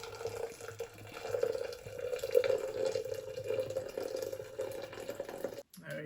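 Water pours in a steady, moderately loud stream into a French press for several seconds, then cuts off abruptly near the end.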